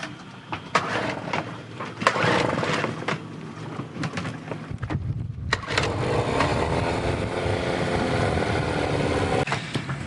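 A sailboat's outboard motor with a fuel problem runs unevenly, sputtering and surging, briefly cutting out around the middle before catching again and droning on roughly at close range.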